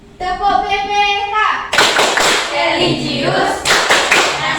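A class of children claps along in unison for the PPK clapping chant, loud and close, with shouted voices mixed into the rhythmic claps.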